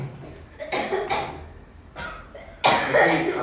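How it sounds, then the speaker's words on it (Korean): Several sharp coughs from a person indoors, close and loud, in separate bursts with quiet gaps between them, the last burst the strongest. "갑자기 기침을 그렇게 하시면 제가 어떡해요"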